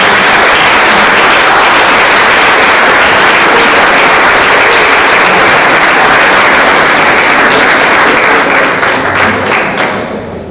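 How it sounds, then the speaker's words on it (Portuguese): An audience claps at a launch event for a knowledge centre, loud, dense and sustained, then fading toward the end. "uma salva de palmas para ela"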